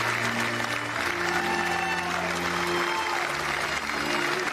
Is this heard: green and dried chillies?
no